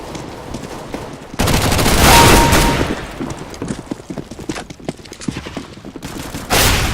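Rapid bursts of automatic gunfire from a Counter-Strike: Global Offensive match, loud and close, with clattering shots crowding the middle seconds and a fresh burst near the end, no talk.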